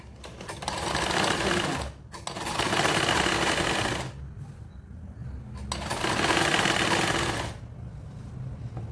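A sewing machine stitching fabric along a chalk-marked line for a ruched skirt: loud, close, rapid mechanical chatter in two long runs and a third burst, separated by brief pauses with softer handling noise.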